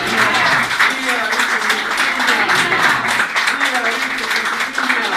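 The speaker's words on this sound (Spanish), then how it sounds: "Llegamos un fuerte aplauso a nuestra Madre la Virgen" Crowd applause for the Virgin of Urkupiña at a religious festival procession, steady dense clapping sustained throughout with voices mixed in.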